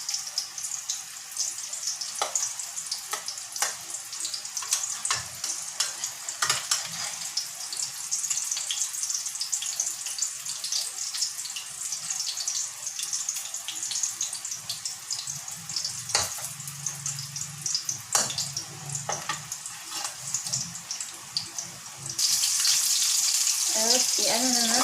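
Hash browns, hotdogs and burger patties fry in hot oil with a steady hiss and crackle throughout, broken by occasional sharper pops and faint clinks, with a louder burst of sizzling near the end.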